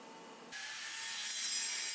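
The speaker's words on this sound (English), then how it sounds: "I rough cut the piece out with my circular saw, and then I finished it up with a bandsaw." A saw cuts into a wooden boat-building piece, with a steady, harsh, close rasping buzz starting abruptly after a brief quiet moment and continuing to the end.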